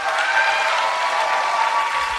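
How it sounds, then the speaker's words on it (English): An audience at a live comedy podcast show in a performance hall claps for the audio engineer, producing a dense, even roar of applause that carries through the whole moment with no talking. "Big round of applause for Morgan."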